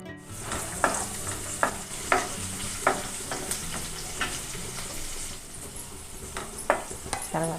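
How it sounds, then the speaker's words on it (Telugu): Chopped onion and cumin sizzle in hot oil, a continuous crackling fry punctuated by regular scraping stirs of a spoon against the pan. "ఒక చిన్న ఉల్లిపాయ చిన్న ముక్కలుగా కట్ చేసుకొని వేసుకోవాలి."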